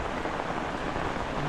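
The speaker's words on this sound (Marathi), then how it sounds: "आणि पाऊस बघा किती आहे" Steady, dense rainfall pours down in a forest in the Konkan, a continuous broadband hiss with no breaks or other sounds.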